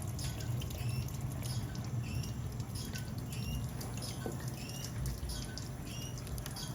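Water draining from a water heater's temperature/pressure relief valve: a continuous, faint splashing and trickling patter with scattered drips, steady throughout.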